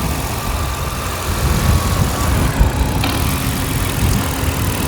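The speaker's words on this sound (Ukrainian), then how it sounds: "Зараз заведений двигун, працює дуже тихенько" A Renault Megane plug-in hybrid's engine idles with a steady, low hum, constant and unbroken, with no voices.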